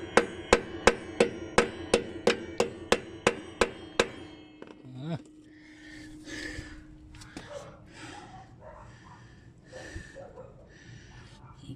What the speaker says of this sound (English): I turn the wheel to the right to hammer out